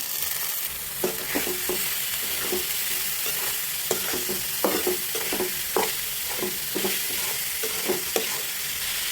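Continuous loud frying hiss as lentils are added to a pan, with a spatula scraping and knocking against the pan in irregular strokes, no speech.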